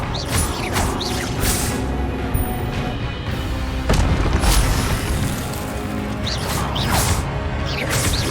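Spell effects crackle and boom in the Hogwarts Legacy video game as Expelliarmus is cast, with repeated whooshing bursts and impacts over a continuous rumbling game soundscape.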